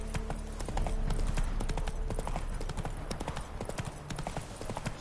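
The horse Roach galloping in The Witcher 3, a rapid, steady drumming of hooves on the ground under a dense game soundscape, with faint voices mixed in.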